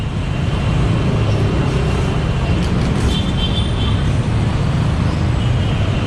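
Heavy night-time road traffic in Divisoria, Manila, a loud steady rumble of idling and crawling engines close by, with a brief higher whine midway and no clear speech.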